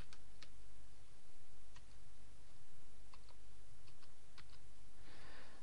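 A computer keyboard clicks as a security code is typed, scattered light keystrokes spaced unevenly over a steady background hum, close and fairly quiet with no talk.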